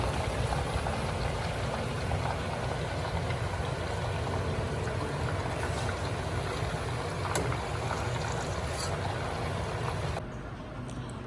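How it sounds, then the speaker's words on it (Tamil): Steady, dense crackling sizzle of chicken 65 deep frying in hot oil on medium-high heat, loud and continuous, cutting off abruptly near the end. "அது பொரிக்கும் போது பார்த்து மீடியம் ஹையில் வச்சு பொரிங்க."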